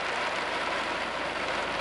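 Torrential rain driven by an approaching typhoon hammers down in a continuous, close hiss and roar, loud and unbroken, with no one talking.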